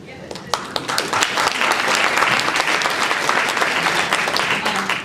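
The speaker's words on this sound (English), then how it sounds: "I want to have another round of applause" Audience applause for a legislative panel at a pre-session community forum, a dense, steady wash of many hands clapping throughout, with scattered sharper claps standing out near the start.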